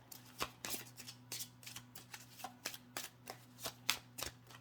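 Tarot cards shuffled for a reading, about a dozen quick papery riffles in a steady rhythm, close by, over a faint low steady hum, with no voices.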